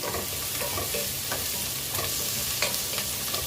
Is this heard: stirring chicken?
yes